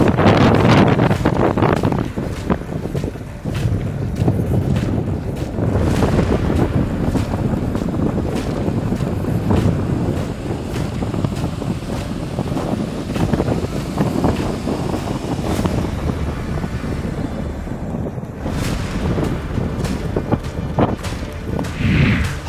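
Strong wind and rain from Cyclone Michaung at Chennai airport: a loud, steady gusting roar with buffeting and rustling through the whole stretch, with no voices.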